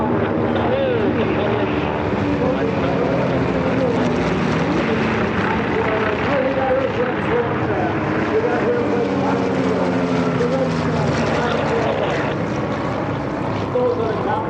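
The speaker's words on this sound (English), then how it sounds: "the bark of the radial engine" Radial-engined warbird aircraft flying overhead at the EAA AirVenture airshow, a continuous loud droning engine roar with shifting pitch and wind noise throughout, a commentator talking over it on the public address.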